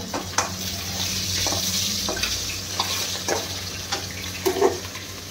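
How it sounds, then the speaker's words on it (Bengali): Fish in a spicy curry sizzles and fries in a pan, with steady frying hiss broken by several clinks and stirring taps. "এদিকে মাছের ঝাল হচ্ছে"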